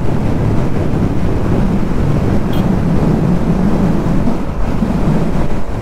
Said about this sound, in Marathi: गार वारा सुटला एकदम